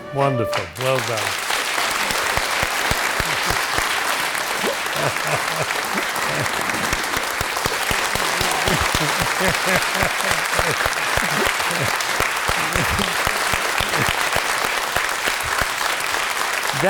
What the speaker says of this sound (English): That applause is for hard work, for seriousness of purpose, for caring, for listening, for wanting it to be great.